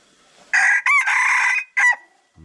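A rooster crows loudly and close by in a rural setting, one long harmonic call broken into segments, followed by a quick fading tail and a brief low thump at the end.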